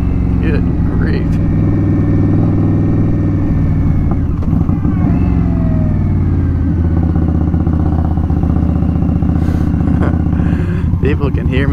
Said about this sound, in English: Exhaust is so loud.